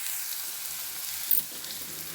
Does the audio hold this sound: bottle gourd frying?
yes